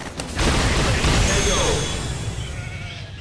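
Sheep bleating comes from the Street Fighter V game sound, a wavering cry mixed with impacts and crowd noise from the fight, with voices talking over it.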